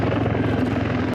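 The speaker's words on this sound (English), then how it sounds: "Today, we're zeroing in on the NH90 TTH, the tactical transport helicopter variant of the NH Industries NH90" NH90 TTH military tactical transport helicopter, a loud continuous rotor and turbine drone with rhythmic blade chop, cutting off abruptly at the end.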